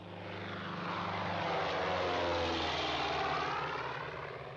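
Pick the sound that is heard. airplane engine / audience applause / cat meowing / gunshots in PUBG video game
airplane engine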